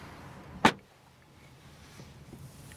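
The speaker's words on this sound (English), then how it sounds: "We can close the doors." A single brief, muffled thud as a door shuts on a 2023 Mercedes A-Class sedan, heard once against a quiet interior hush.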